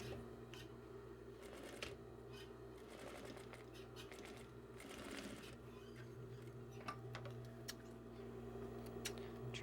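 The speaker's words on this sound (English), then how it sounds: "Trim off the excess." Scissors trim excess fabric welt, giving faint intermittent snips and rustles of cloth over a steady low room hum, close but quiet with no voices.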